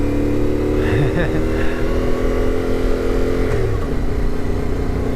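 A CFMoto Ibex 450 motorcycle climbs a hill in second gear, its engine droning steadily and gently close up, with a slight pitch shift near the end; a rider talks over it.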